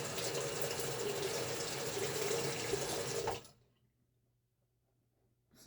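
Tap water runs steadily into a sink for shaving, a close, even hiss that stops abruptly partway through, leaving near silence.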